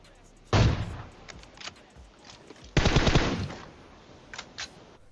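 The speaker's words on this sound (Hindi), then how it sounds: "न जाने कहां से गोली चला रहा है" Gunfire in the mobile battle royale game PUBG Mobile: two loud bursts of rapid automatic shots, each about a second long, separated by quieter single shots and small clatters.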